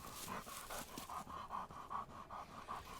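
A hunting dog pants close by in a steady, rapid rhythm, each quick breath clear and even across the whole stretch with no talking.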